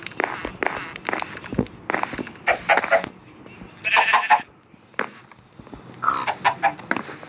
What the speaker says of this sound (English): excuse me, chicken.